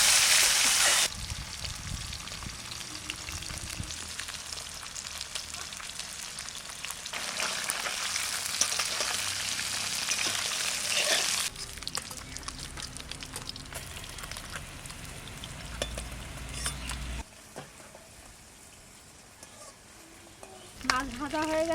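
A large fish frying in a pan, a steady close hiss and crackle of hot oil that runs throughout, swelling and easing slightly, with occasional clatter of a utensil.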